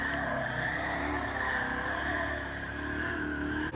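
Tyres squeal continuously as a car spins and skids in Gran Turismo Sport, a steady loud screech layered over engine drone for nearly four seconds without pause.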